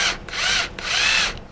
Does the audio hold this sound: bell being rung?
no